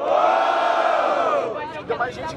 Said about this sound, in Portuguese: Barulho para as irmãs do Gabriel!